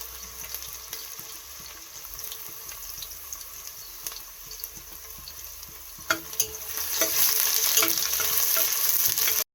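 Chopped onions go into a pan of hot oil with cloves and pepper for veg pulav, a quiet crackle with faint stirring clicks that jumps to a louder, steady sizzle.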